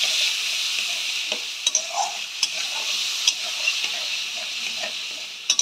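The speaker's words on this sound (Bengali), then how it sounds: "পেস্টটা দিয়ে ভালো করে এবার কষাতে থাকবো।" Spice paste for a green banana kofta curry is stirred and fried in a pan, giving a steady close sizzle with occasional scrapes and clicks of the spoon against the pan.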